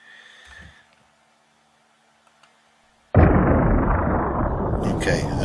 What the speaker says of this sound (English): let's put a library effect in, explosion.